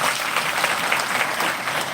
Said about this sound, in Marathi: यांच्या नावाने एक वेळ टाळी वाजवा तुम्ही जोरात